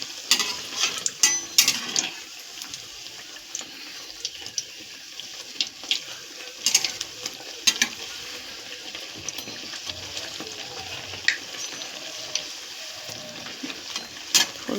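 Food frying in hot oil in a wok over a gas flame, a steady crackling sizzle with sharp pops and bursts spread through the whole stretch, close and fairly loud.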